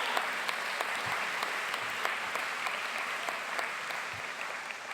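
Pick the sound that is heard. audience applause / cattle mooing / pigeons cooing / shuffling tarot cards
audience applause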